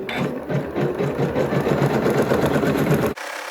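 A Janome Skyline S9 embroidery machine stitching trapunto stippling runs steadily with a fast rhythmic whirring hum, close and continuous, then stops abruptly.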